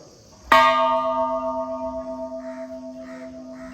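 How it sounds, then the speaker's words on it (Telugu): A single temple bell is struck once and rings out with a long, sustained metallic tone that slowly fades. Faint crow-like caws sound in the background. "అందరూ గుడి గంటలు కొడుతున్నారు, నేను ఒకసారి కొడదామని వెళ్తున్నాను"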